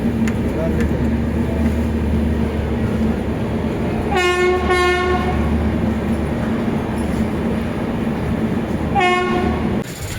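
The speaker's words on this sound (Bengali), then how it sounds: "আমাদের ট্রেন কলকাতা স্টেশন পৌঁছে গেল" A train arriving at Kolkata station rumbles steadily at close range with continuous low mechanical noise, while a horn sounds twice, a long blast and then a shorter one near the end.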